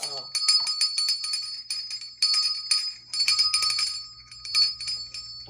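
A small hand bell rings in repeated bright jingling bursts, close and clear, alternating with brief pauses while a person speaks.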